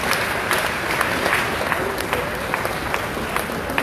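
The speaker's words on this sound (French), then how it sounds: "un tonnerre d'applaudissements pour nos amis artistes, maestros" Concert audience in Kinshasa applauding after a performance, a dense, steady wash of many hands clapping with crowd noise, loud and continuous throughout.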